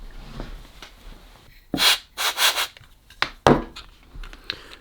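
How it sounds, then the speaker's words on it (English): A hand air blower puffs air to clear dust off a circuit board: a few short, breathy bursts of air with quiet gaps between them, close by, with no talking. "Let me get my air blower."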